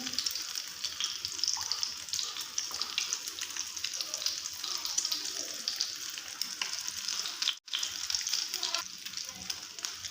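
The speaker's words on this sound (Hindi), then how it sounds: "इसी तरह हमने सारे फ्राई कर लेने" Chicken shami kebabs fry in hot oil, a steady crackling sizzle that continues evenly throughout, dropping out for a split second before resuming, fairly quiet overall.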